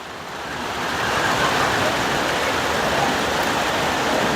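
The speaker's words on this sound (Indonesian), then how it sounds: "Ini hujannya semakin keras." Heavy rain pouring at Lake Mawang in Gowa, heard from a shelter at the lakeside, a dense, loud, continuous hiss of downpour that swells in the first second and then holds steady.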